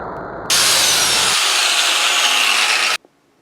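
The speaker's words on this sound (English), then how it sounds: "I have my grinder with a flap wheel on it, and right here, and I'm going to try and buff this off right here" A grinder fitted with a flap wheel buffs a Honda ATV metal foot peg, a loud, bright, steady abrasive whine lasting a few seconds before it abruptly stops, preceded by the motor winding up.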